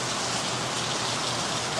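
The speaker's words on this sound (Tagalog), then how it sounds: "Inabot na kami ng ulan" Rain falling steadily outdoors as a storm arrives, a dense, even hiss with no breaks, fairly soft and continuous with no voices over it.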